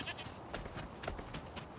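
A goat bleats faintly in a video game, its short cries repeating against a soft background bed.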